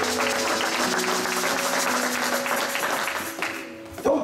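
A church congregation claps and cheers in praise of the Lord, a loud, dense, sustained wave of applause with voices mixed in, easing off slightly near the end.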